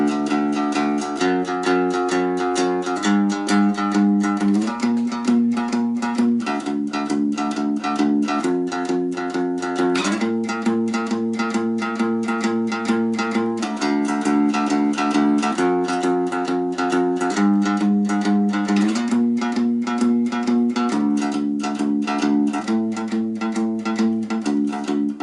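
A one-string cigar box guitar, or diddley bow, plays a looping 16-bar pattern with steady plucked notes that step between a few pitches, loud and close throughout with no talking.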